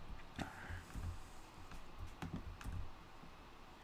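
Typing on a computer keyboard produces scattered soft key clicks and taps at an irregular pace against a quiet, hissy room background.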